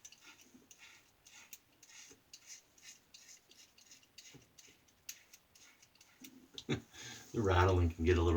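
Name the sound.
Colorlamb Forester folding razor rattling while shaving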